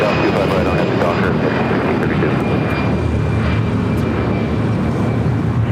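An American airliner at LAX powers up for takeoff on runway 25 right, a loud continuous engine roar filling the whole stretch beneath radio-style talk.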